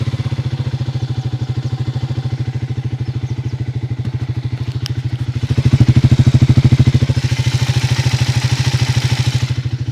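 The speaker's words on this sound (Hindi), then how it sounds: "ये आइडियल का साउंड था।" A Triumph Thruxton 400 motorcycle idles close by with a steady, even single-cylinder thump throughout, briefly swelling louder around the middle as the revs lift slightly, with no talking.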